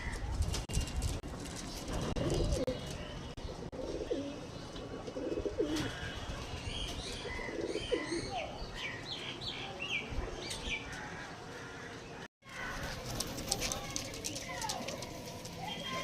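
Kalshira and fulshira tournament flying pigeons coo softly in repeated low calls, with wing rustles, beneath someone speaking almost throughout.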